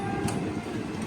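Passenger train rolling along rails between Ernakulam and Guruvayur, a steady close rumble of wheels and carriage noise.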